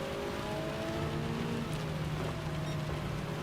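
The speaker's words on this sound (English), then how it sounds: "Rain is definitely picking up." Rain falls during a racing video game as a constant, dense hiss, with a car engine droning steadily underneath.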